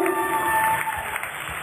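Audience applause at a spring festival concert in Tomaszów Mazowiecki, a steady wash of clapping filling the room at moderate loudness throughout.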